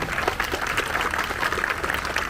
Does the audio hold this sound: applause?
yes